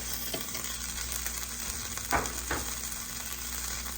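Ghee sizzling in a pan, a soft continuous frying hiss close by with a couple of brief clinks and scrapes of a utensil partway through, quiet overall and without talk.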